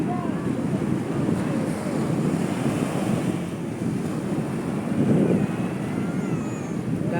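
Sea surf rolling onto a beach in Infanta, a continuous rumbling wash of waves with heavy wind buffeting the microphone and faint voices in the background.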